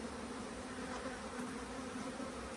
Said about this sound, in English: we're seeing some good activity at the front door, kind of normal bee behavior